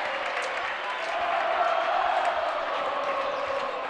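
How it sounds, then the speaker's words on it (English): Steady crowd roar with applause and cheering fills a high school varsity boys' basketball gym, Lyons Township against Hinsdale Central, a dense continuous wash of noise that swells slightly midway without letting up. "Crowd's getting into this one now."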